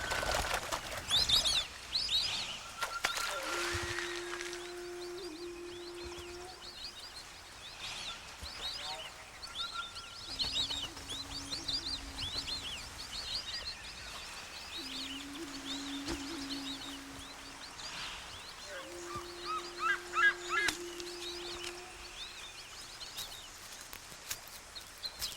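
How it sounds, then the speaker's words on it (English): Calls of a Madagascar fish eagle in a wild setting, several drawn-out calls spaced across the span against a background of smaller birds chirping and rustling. "the fish eagle is the island's largest bird of prey."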